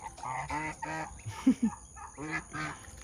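Geese honk close by at a home where goslings have just hatched, giving several nasal calls with short sharp honks in the middle, over a steady background hum and faint voices.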